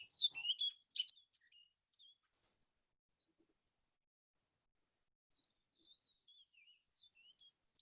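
Short, high-pitched bird chirps and warbling call notes of an orchard oriole, resembling a house finch: a loud burst of calls at the start, then faint scattered notes and soft twittering phrases toward the end, with no talking.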